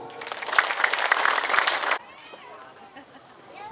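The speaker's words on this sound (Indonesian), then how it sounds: "Tepuk tangan Bu." Audience clapping in a hall for about two seconds, loud and dense, then cutting off abruptly into quiet room sound with a voice faintly beginning to speak.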